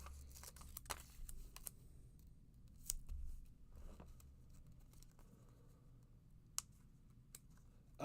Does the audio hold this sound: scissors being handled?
yes